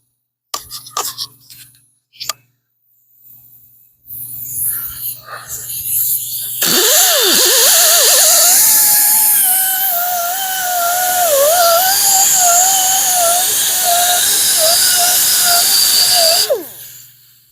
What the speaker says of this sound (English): A sanding drum would probably be the best thing right now